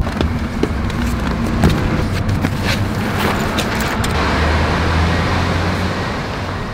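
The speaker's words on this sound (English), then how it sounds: "we got in his car and we headed over to Washington, D.C." A car drives along a road in Washington, D.C., with a steady engine and road rumble close by and faint passing traffic, heard alone without speech.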